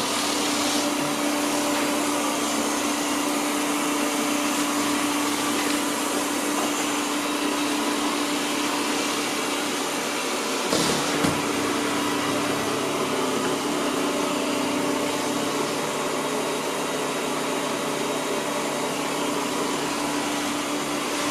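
A Deebot Ozmo T8 AIVI robot vacuum runs with a constant, loud, high-pitched whir and suction hum, close up and unbroken apart from a short bump midway.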